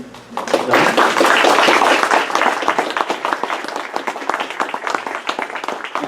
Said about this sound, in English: give him a nice warm round of applause and welcome